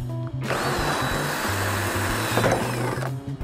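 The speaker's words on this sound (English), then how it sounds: "measure five and a half inches and drill into the very first groove" A power drill bores into the groove of a metal bar during a hardtop door enclosure install, whining continuously and close, its pitch shifting as the bit works through the metal.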